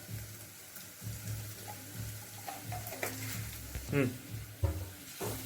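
Browned onions sizzle and fry in a pan while asafoetida is stirred in for a fish and spinach curry, with steady crackling, scraping stir strokes and occasional louder clatters as someone speaks over the cooking.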